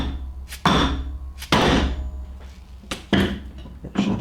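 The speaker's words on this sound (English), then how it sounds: "Now just simply take the hammer, a mallet," A mallet strikes a polyurethane motor mount insert on a 1990s–2000s Jeep ZJ/WJ, landing four heavy, evenly spaced blows close up, each with a short ringing decay.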